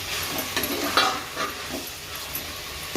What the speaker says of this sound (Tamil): நல்லா தக்காளி பாதி வதங்கணும் வதம் கூடாது பாதி வதங்கின வதங்கணும் சிக்கனை போட்டு